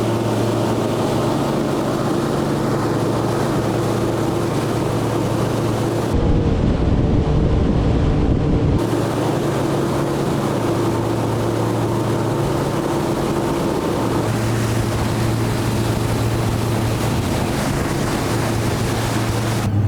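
Bass boat running at high speed on open water, a loud, steady engine roar mixed with rushing water and wind buffeting, continuous for the whole stretch with a brief shift in tone partway through and no speech.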